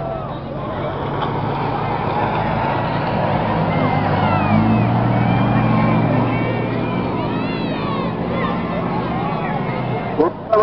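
Race cars on an oval track, with a push car running among them, give off a steady, loud engine roar that swells and passes, while a commentator speaks over it.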